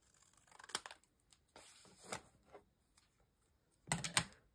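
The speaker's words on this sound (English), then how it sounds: "I'm going to cut off the little bit of trim at the bottom. And I think I'll just use my scissors for that." Scissors trim a strip of paper edging from a Christmas junk journal collage page, making a few quiet, separate snips and crisp rustles spaced across a few seconds.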